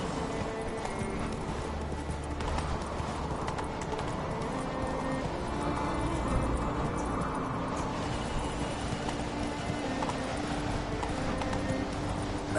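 Roach, a horse in The Witcher 3, gallops with a rapid, steady drumming of hooves throughout under a dense game soundscape, loud and close.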